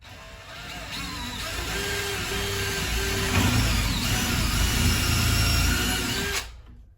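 A power drill with a 6 mm brad point bit bores into wood for a snake enclosure box build, a steady whining motor drone that grows louder and heavier midway, then cuts off abruptly near the end.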